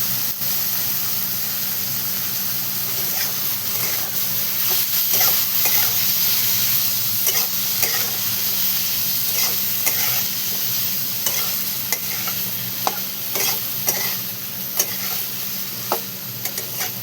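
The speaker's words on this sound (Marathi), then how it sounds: "आणि सर्व असं परतून घेतले आपण फुलावर टाकल्याच्या नंतर" Washed cauliflower stir-fried in a pan with groundnut powder, a steady loud sizzle overlaid with irregular scraping and stirring clatter from a spoon against the pan, with no voices.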